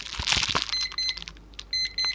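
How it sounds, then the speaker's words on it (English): An electronic alarm sounds in repeated bursts of high, tonal beeps, close and fairly loud, following a brief clatter of handling noise at the start. "And that's my alarm."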